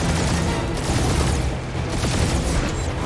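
Rapid ship guns firing in the video game Marvel's Guardians of the Galaxy during a space dogfight, a dense continuous barrage of loud blasts and booms filling the whole stretch.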